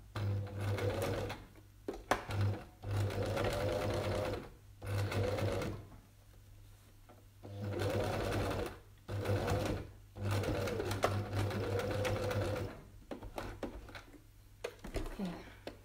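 A sewing machine stitches a small crossbody cellphone pouch in repeated close runs of rapid mechanical whirring, each a few seconds long, with short pauses between and occasional soft talk.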